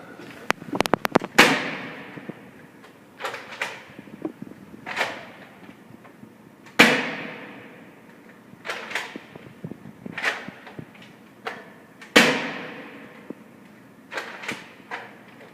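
Modified Nerf Longshot sniper blaster fired down a 40-metre indoor range at Nordkraft in Aalborg, giving a series of sharp snapping shots and clacks spaced a few seconds apart in a reverberant hall.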